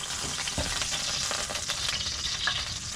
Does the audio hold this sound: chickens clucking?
no